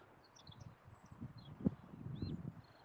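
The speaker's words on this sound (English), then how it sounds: "Can you hear the birds?" Small birds chirp faintly in the distance in the Sussex countryside, scattered high calls over a low rustle of wind and a single soft knock midway.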